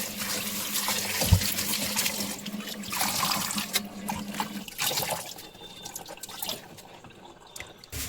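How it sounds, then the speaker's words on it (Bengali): Pumpkin leaves washed by hand in a basin of water to rinse out sand: irregular splashing, sloshing and dripping, close and fairly loud at first, then quieter, with no speech. "এইভাবে করে জল পাল্টে পাল্টে বেশ কয়েকবার ধুয়ে নিব"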